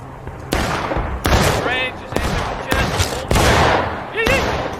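Infantry rifle fire in War of Rights: a ragged run of sharp musket shots and crackling volleys, several loud cracks spaced irregularly, with voices calling out over the gunfire.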